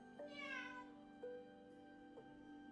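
A house cat gives a clear drawn-out meow followed by two shorter chirping calls, fairly close and quiet over a steady low background hum.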